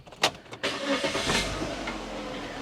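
A used Domino's pizza delivery car with a failing CVT transmission is started up close: a few quick mechanical clicks, then the engine catches and settles into a steady, even idle.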